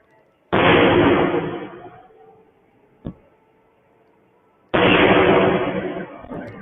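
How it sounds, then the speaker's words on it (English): Two heavy explosions like an artillery bombardment boom out a few seconds apart, each a loud broadband blast with a rolling rumble that fades over about a second and a half. A single sharp pop falls between them. "It's like artillery coming in."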